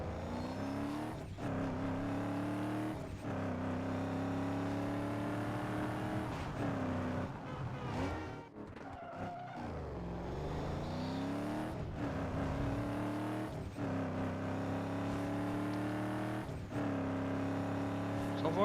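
A Cadillac Escalade's engine drones and revs in the racing game Need For Speed Underground 2, rising and falling through repeated gear shifts with a brief dip midway, steady and fairly quiet throughout.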